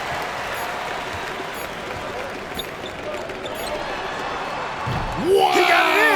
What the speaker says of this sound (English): Listen to this crowd right now.